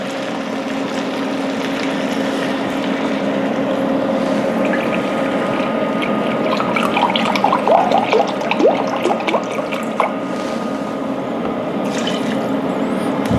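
About three cups of broth pour into a pot for homemade dirty rice, a continuous liquid splash and glug that swells in the middle and trails off, heard alone without talk.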